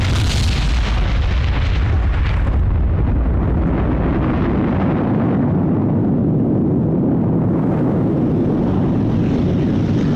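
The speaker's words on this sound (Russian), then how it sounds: "Через 45 секунд на высоте 600 метров произошел взрыв атомной бомбы «Малыш»" The atomic bomb airburst over Hiroshima, detonating 600 metres up, produces a massive, continuous roaring rumble that fills the whole span, loud and dense, with a deep booming low end.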